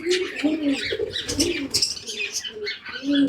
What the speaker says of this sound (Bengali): এই যে আমার এখানে একজোড়া ডায়মন্ড ডব আছে দেখেন বন্ধুরা